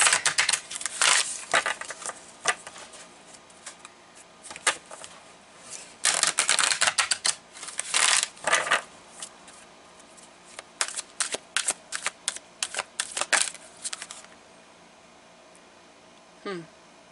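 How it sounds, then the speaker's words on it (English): Soul Coaching Oracle cards are shuffled in close, crisp bursts of riffling and flicking, separated by brief quiet pauses and ending in near silence. "I'm going to pull now from the Soul Coaching Oracle cards"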